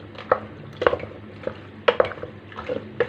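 Macaroni mixed with béchamel sauce being stirred in a pan, a spoon knocking and scraping against the metal in irregular clinks and thumps, close up, with no voices.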